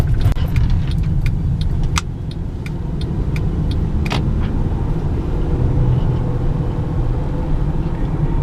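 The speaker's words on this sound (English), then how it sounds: "even when you're not trying to like accelerate heavily, the car will free rev anyway, just because of the way the engine is designed" A 2012 Honda Pilot EX-L 4WD with 40K miles, heard from inside while driving: a steady low engine drone with a little rise, plus faint light jingling like keys. No one talks.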